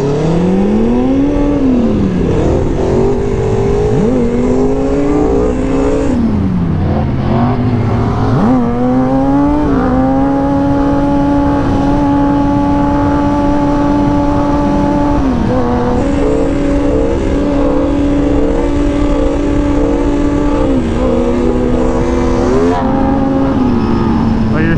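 Stunt motorcycle engine on its first ride, loud and close, revving repeatedly through rising and falling pitch sweeps and holding steady high idles, with some voices in the background.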